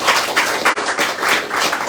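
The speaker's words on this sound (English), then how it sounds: "Please give me a round of applause." Dense, steady applause from a crowd at a Liberian ruling CDC party campaign team announcement, filling the moment loudly with a brief dip partway through.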